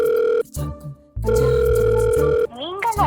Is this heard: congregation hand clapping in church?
no